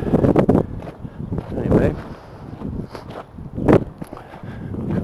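Gusty outdoor wind near an AM transmitter site buffets the microphone in uneven surges of low rumble, loud and close, with footstep-like thumps and a voice talking briefly.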